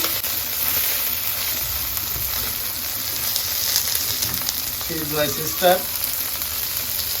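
Tangra fish fries in oil with a steady, close broadband sizzle throughout, broken near the end by a few brief clattering touches as the pieces are turned.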